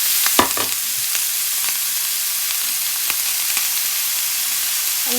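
Steady broadband sizzle of pork belly frying in a hot dry pan without oil, with a few sharp clinks and scrapes of a utensil against the pan; no talking.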